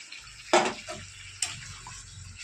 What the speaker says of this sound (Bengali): একটু হালকা অল্প জল দিয়ে দিচ্ছি।